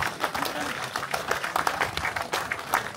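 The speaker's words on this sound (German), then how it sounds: "ganz großen Applaus an die beiden" Outdoor summer festival crowd in the Harz clapping in a burst of applause, with scattered claps and a voice speaking over it.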